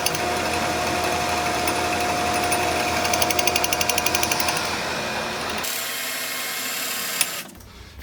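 A milling cutter mitering a bicycle downtube for a hardtail mountain bike frame grinds steadily and loudly with a faint rhythmic chatter, then drops abruptly to a quieter mechanical hum as the cut eases off.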